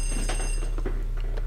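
A telephone rings in the video game Luigi's Mansion, a steady, bright electronic ring held throughout over a low, constant hum.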